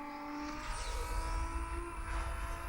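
Racing car engine from Need For Speed Most Wanted, a steady loud drone with rising and falling pitch as the car accelerates, up close and continuous throughout, with no talking.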